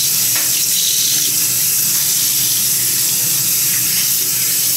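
Tap water pours loudly and steadily into a sink while a bleached wig is washed, a constant close hiss of running water with no voices.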